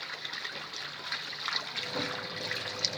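Water runs and trickles steadily while clothes are washed by hand, a soft continuous splashing with small surges, fairly quiet and without talk.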